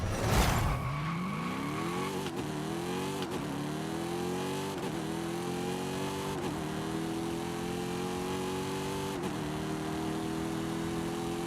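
A Dodge Challenger Hellcat in Forza Horizon 5 launches and accelerates hard, its engine revving up through several quick gear shifts in a steady, loud climbing drone with no talk over it.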